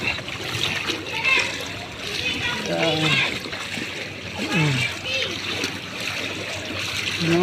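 Feet or a vehicle splash through deep floodwater on a street after torrential rain, a steady wet churning with bursts of splatter, while people talk nearby.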